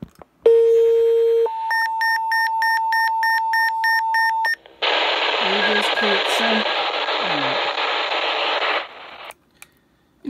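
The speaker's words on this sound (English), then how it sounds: "I might as well just send out the tones quick" Quick Call II two-tone radio paging sequence sent over a transceiver: a low steady tone, then a longer higher tone with faint pulsing, then a burst of loud receiver hiss with brief squelch noises before it cuts off.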